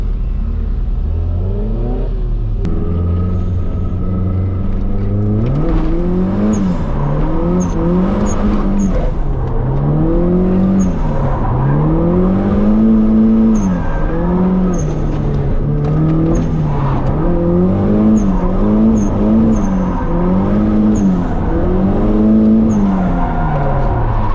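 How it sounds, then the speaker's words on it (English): A hatchback car drifts in a disused factory lot in Mexico. The engine revs loudly and repeatedly, rising and falling in a steady rhythm, with high tire squeal running over it close by. "This thing's crazy to drift."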